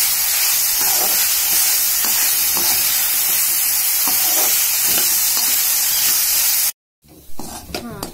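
Raw banana (vazhakkai) pieces roasting in a pan, a loud dense hiss of frying with faint periodic scrapes, cutting off abruptly near the end before quieter clattering sounds.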